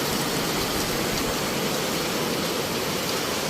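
Heavy rain sweeps in off the sea along a seafront road during a storm, a dense, steady hiss of downpour that never lets up.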